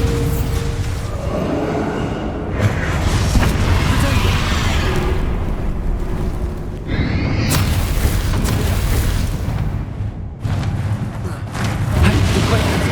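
A spell blast in the video game Hogwarts Legacy erupts as a loud, booming explosion, with further rumbling bursts and sharp cracks following over several seconds amid dense game effects.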